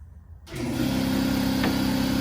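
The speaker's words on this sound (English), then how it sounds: "Air compressor." Air compressor running in a garage during strut and control arm bushing work on a Pontiac G5, starting abruptly after a brief near-silence and settling into a steady, loud, continuous motor drone with no talk.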